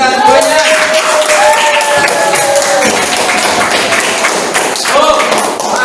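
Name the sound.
classroom applause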